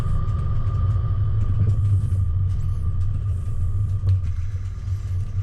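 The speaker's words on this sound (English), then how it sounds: "a couple of vehicles just coming out now from the" Vehicles pulling out of the parking area at Craig's Hut, heard as a continuous low engine rumble close by, steady throughout with a faint higher hum above it and no talking.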